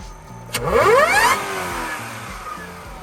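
A Mercedes-Benz CL55 converted to a six-speed manual gives a sharp throttle blip: the engine note sweeps rapidly upward, peaks and drops back to a steady, loud idle rumble, close up with no talking.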